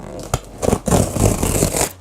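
Close, loud tearing and scraping as a Lush cardboard box is pulled open at its open-here tab, a few quick rips followed by a sustained rough tear.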